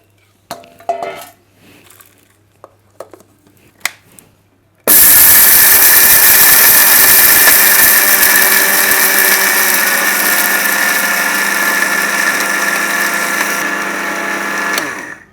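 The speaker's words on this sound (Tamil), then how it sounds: "இதெல்லாம் போட்டு நம்ம மிக்ஸி ஜாரில் போட்டு பருபருன்னு அரைச்சி எடுத்துக்கலாம்." A mixie jar grinds dry idli podi ingredients coarsely, starting abruptly after a few quiet seconds of faint clinks and handling, then roaring loudly and steadily for about ten seconds before easing at the end.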